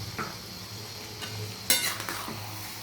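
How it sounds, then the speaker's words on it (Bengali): Cooking in ghee is stirred in a pan, a quiet steady sizzle under soft scraping, with one sharper clatter of the spoon against the pan midway. "ভালো করে মিশিয়ে নিচ্ছি"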